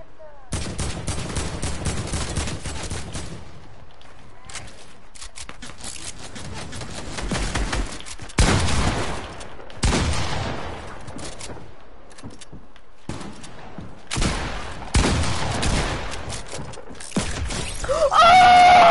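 Video game gunfire from an AK rifle and a revolver, with dense bursts of rapid shots and sharp single cracks in clusters separated by brief quiet gaps, loud and close, with some shouting mixed in.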